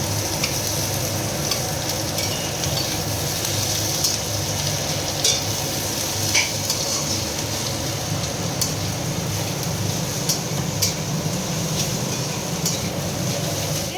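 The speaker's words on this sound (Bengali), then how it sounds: "রসুনটা থেতো করে নিয়ে তেলে দিয়ে দিলাম।" Crushed garlic frying in hot oil gives a steady, close sizzle with faint clicks and scrapes of stirring scattered through, no voices.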